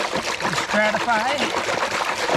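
Water sloshes and trickles in a banjo gold pan being worked in a Michigan creek, soft wet swishing close by while someone talks over it.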